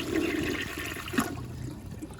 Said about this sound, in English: I want to give it a partially clogged flush.